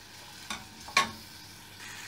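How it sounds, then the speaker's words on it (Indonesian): Onions fry and sizzle in a pan for soto daging sapi, a soft steady crackle broken by two brief scraping stirs, close and alone. "Wait until your onion become soft."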